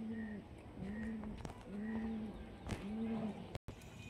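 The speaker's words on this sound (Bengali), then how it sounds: "এটা টাকি চোখের পায়রা, মাদা পায়রা" Pigeons coo in a domestic loft, with female pigeons among the birds; soft, repeated low coos come in several rounds over steady background noise, and there is no clear talk.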